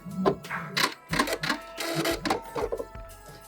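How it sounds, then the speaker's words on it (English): A sewing machine back stitching at the end of a seam on a pouch made from a tie, with short, close bursts of mechanical whirring and clicking that stop and start in quick succession. "Make sure you're back stitching or fixing. Back stitch at the end and cut."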